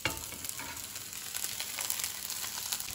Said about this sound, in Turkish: Kestiğim iç yağlarımı tencereme alıyorum. Bakın, sıcak olduğu için hemen erimeye başlayacak.